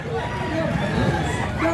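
A bullstag rooster crows at a busy Cebu poultry market, the call fairly close and rising over a steady murmur of people talking and background crowd noise.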